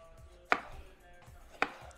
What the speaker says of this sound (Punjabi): ਟਮਾਟਰਾਂ ਨੂੰ ਆਪਾਂ ਕੱਟ ਕਰਕੇ